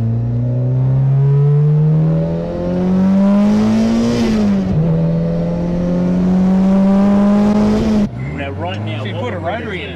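A Toyota KE38 Corolla with a 5K engine and twin Weber carburettors revs hard toward its limiter, loud and close, the pitch climbing steadily, dipping briefly and climbing again before cutting off abruptly near the end.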